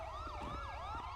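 A police siren in Grand Theft Auto V wails in a fast rising and falling pattern, clear and steady over a low engine hum.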